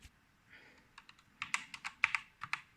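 Keys on a Genesis Thor 300 TKL RGB mechanical keyboard clicking in a quick, uneven run of a dozen or so close, crisp presses, starting sparse and growing denser.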